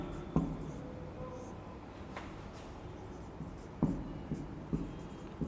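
Chalk or marker on a board during a chemistry lecture, soft scratchy strokes with a few sharp taps as it meets the surface, faint and close against a quiet room.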